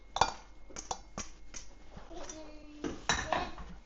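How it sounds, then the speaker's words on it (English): A spoon knocks and clinks against a pot in a quick, irregular series while cooked egg noodles are stirred into meat, close and fairly loud, with no clear speech. "we're going to throw in 12 ounces of cooked egg noodles"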